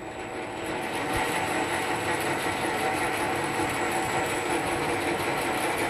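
Ametek 30 electric motor running in reverse at about 13 volts, producing a steady close whirring hum with a faint rhythmic ticking throughout, no talking.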